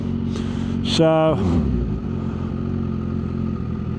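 Kawasaki Ninja H2 motorcycle fitted with a Van Diemen exhaust, dyno tuned, giving a short loud rev that rises and falls around the one-second mark, then settles to a steady idle rumble beneath someone talking nearby.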